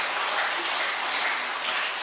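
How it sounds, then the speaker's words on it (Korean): Members of a church congregation clap during a women's mission society dedication service, a loud, continuous rattle of many hands sustained throughout without speech. "박수 한번 칩시다."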